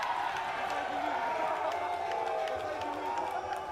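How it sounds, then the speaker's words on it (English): A rugby match crowd boos in disagreement over a challenge, a steady, distant roar of massed voices filling the stadium throughout without letting up. "Disagreement from the crowd on the challenge by Shane Welapane."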